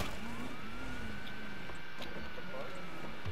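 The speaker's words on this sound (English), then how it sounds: "Siren's on." In a video game, a police car siren wails in a slow rising and falling tone under the noise of gameplay, moderately loud and continuous.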